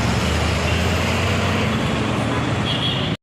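Road traffic in a jam, a loud, dense, continuous roar of cars, buses and trucks close by, steady throughout before cutting off abruptly at the end.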